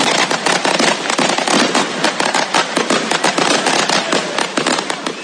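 Fireworks greeting Brazilian president Jair Bolsonaro and a crowd in Eldorado, a dense, loud barrage of rapid crackling bangs that continues without pause.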